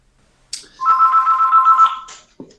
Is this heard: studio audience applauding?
no